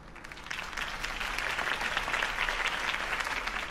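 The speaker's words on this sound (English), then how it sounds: "could have heard that applause" Steady crowd applause in the video game Batman: The Telltale Series, a dense wash of clapping that swells slightly after the start and holds at an even level throughout.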